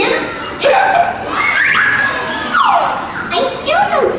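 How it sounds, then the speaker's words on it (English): Goliath, a costumed character, gives loud comic hiccup sounds and squeaky rising and falling vocal noises close to the listener, mixed with laughter-like voicing. "Oh no, you have the hiccups."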